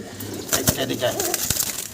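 Red desi golla pigeons, one hen sitting on two eggs, give soft, intermittent coos among sharp clicks and rustling, with a voice speaking nearby.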